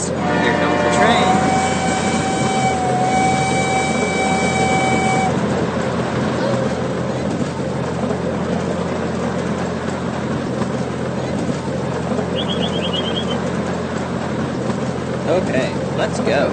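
A video game train arrives with a sustained horn blast early on, followed by continuous rumbling and mechanical noise from the rolling train throughout.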